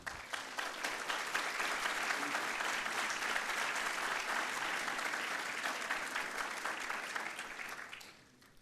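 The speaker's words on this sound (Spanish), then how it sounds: "Le brindamos un fuerte aplauso." An audience at an international seminar on recall elections in Peru and Latin America gives a steady, full round of applause that holds evenly and then fades out at the end.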